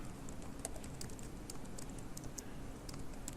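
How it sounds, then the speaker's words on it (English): Quick, light keystrokes patter on a computer keyboard in an irregular stream of soft clicks. The typing sounds faint and slightly distant, with no talk over it. "I'm going to come in and type in"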